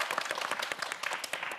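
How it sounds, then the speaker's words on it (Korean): Studio audience on a quiz show clapping, a dense steady patter of many hands at moderate loudness, with no voices over it. "박현진 학생에게도 큰 박수 부탁드립니다."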